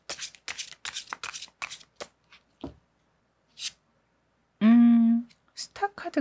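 Tarot cards shuffled by hand for an advice reading, a quick series of close riffling flicks and slaps, then scattered pauses and a short voiced sound near the end.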